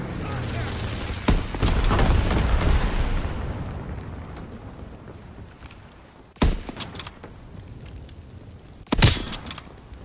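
Incendiary bomber strike in a WW2 shooter, a long rolling roar of explosions that slowly fades, then two more sharp, loud blasts later on, with game voice lines heard between.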